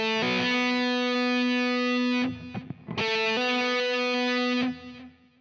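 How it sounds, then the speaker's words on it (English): A distorted electric guitar in a rock lesson sounds a sustained fretted note, then slurs by a hammer-on to a higher fretted note without a new pick attack. After a brief break the same phrase repeats, loud and alone. "I could of course hammer on to a fretted note from another fretted note,"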